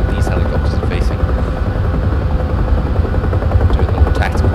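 A Bell UH-1 Huey helicopter in the DCS flight game thumps and whines with a loud, constant rotor drone throughout, its blade chop close and unbroken.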